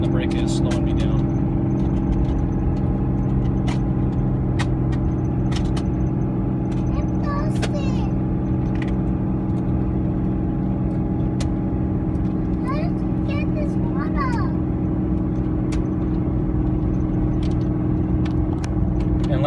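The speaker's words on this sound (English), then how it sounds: "The brake's applied, going down the hill, and the brake is slowing me down." A 2006 Cummins diesel truck descends a hill with a Pacbrake PXRB exhaust brake applied, giving a steady low droning engine roar that holds constant throughout, heard from inside the cab.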